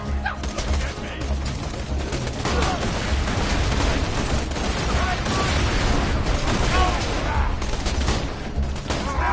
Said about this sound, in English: usually I don't use shotguns on people